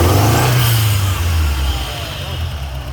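Turbocharged Shelby car engine, parked for 20 years, revving up with a loud rising mid-pitched roar that then eases back toward a rumbling idle, close by.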